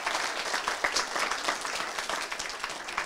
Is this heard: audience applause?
yes